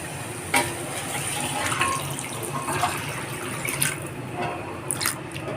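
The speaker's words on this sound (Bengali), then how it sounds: "এখন এর মধ্যে জল অ্যাড করব" Water is poured into cooked tomato masala in a pan for tilapia macher jhal, a soft steady splashing and trickling close by with a few small drips and clinks, alone without talk.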